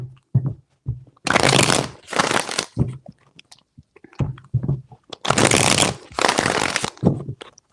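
Tarot cards being shuffled in bursts, four riffling rounds of about a second each separated by short pauses and light handling taps, close and crisp.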